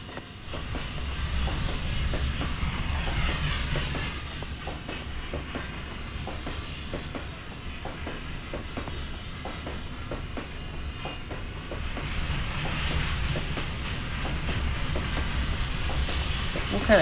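A Hudson steam locomotive running in the video game Trainz 2, a continuous rumbling drone with a steady rhythmic clatter of wheels on rail joints, moderately loud throughout.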